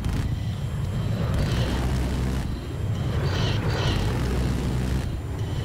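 A jet aircraft roars overhead in Battlefield 4, a loud, dense rushing drone that swells and dips slightly with muffled in-game rumbles mixed in.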